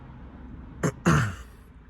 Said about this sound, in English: I was coughing my lungs out